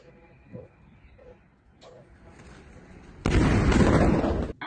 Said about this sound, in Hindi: पहले खामोशी, पहले शांति रहती है और अंत में देखिएगा धमाका कैसे होता है